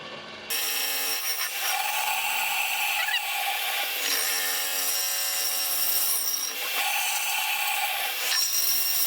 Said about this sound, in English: the drill didn't sound great going through the wood